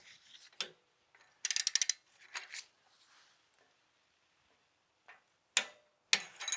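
Torque wrench tightening the head bolts on a Kohler V-twin engine, giving bursts of rapid ratcheting clicks and sharp ticks separated by quiet pauses, close and crisp, with no talking.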